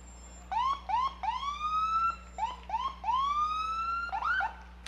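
A fire truck siren from the East Wallingford Fire Department's Ladder 8 at a Memorial Day parade wails loud and close in repeated rising sweeps and short yelps, with no talk over it.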